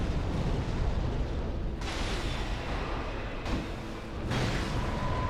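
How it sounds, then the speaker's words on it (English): Video game explosions roar as heavy, broadband rumbling blasts, with several sharp bursts hitting in sequence over a continuous loud din, with no talk. "That's the explosion."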